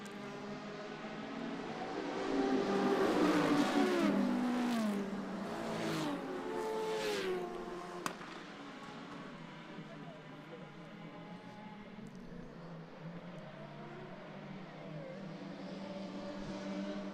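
Race cars rush past on a circuit during ICCR 2022 Round 3, their engines rising and falling in pitch as they sweep by. A loud burst of passes gives way to a steadier, more distant drone, with commentary running beneath.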